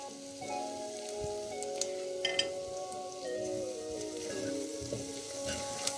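Onions and turmeric sauté in hot oil, giving a steady, close sizzle with faint stirring ticks over a low hum, no speech.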